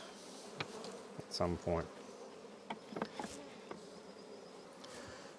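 A honeybee colony hums steadily at a hive, a continuous close buzz with individual bees passing near, under a few short spoken words.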